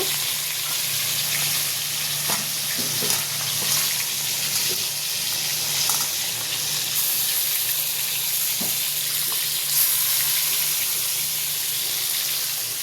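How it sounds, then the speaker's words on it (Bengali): Hilsa fish frying lightly in a pan, a steady close oil sizzle with crackles and pops and the odd clink of stirring, no one talking. "ইলিশ মাছগুলো ছেড়ে দিচ্ছি, হালকাভাবে ভাজা করে নেব"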